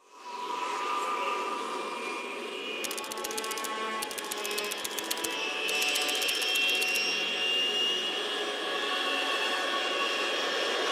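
Steady aircraft drone from a plane cruising high over the Arctic Ocean in Metal Gear Solid 3, a continuous loud engine rumble with bursts of rapid mechanical clicking layered on top midway through.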